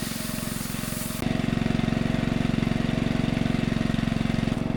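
A pressure washer, weak on pressure, runs while washing the frame of a 2007 Duramax truck. Its pulsing engine drone is steady and close, stepping up louder after the first second and holding there.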